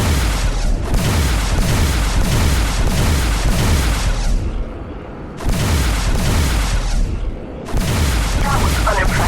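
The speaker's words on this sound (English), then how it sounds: "Using your plasma cannon is a little bit harder on fighters" A plasma cannon fires again and again in a space combat video game, a rapid string of heavy booming blasts with two brief lulls between volleys, loud and close throughout.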